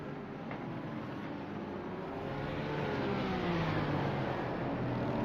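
Race cars at Spa-Francorchamps in a racing video game, a steady broad engine drone with faint rising and falling pitch as cars come through the chicane, fairly quiet and continuous with no talk.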